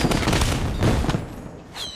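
Firecrackers go off in PUBG Mobile in a rapid crackling volley of sharp bangs, loud and close, thinning out toward the end.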